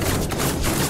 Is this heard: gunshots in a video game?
yes